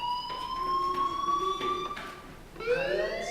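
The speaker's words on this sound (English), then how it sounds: "Hey, do you hear that fire alarm?" In the video game Life Is Strange, a fire alarm sounds with sustained electronic tones that hold steady and then shift pitch, moderately loud with no talking.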